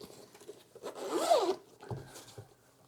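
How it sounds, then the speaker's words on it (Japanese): A double zipper on a carrying case for a TORRAS COOLIFY neck cooler is pulled open in one smooth, close zip lasting about half a second, followed by faint handling rustles. "で、ダブルジッパーですね。 はい、開けましょう。"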